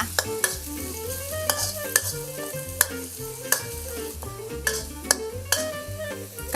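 Garlic is stir-fried in oil in a pan while a spatula scrapes and taps in a steady rhythm over a bright, continuous sizzle, close and fairly loud.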